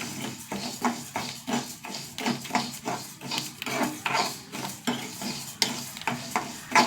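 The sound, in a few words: dry roasting lentils (parippu) in a pan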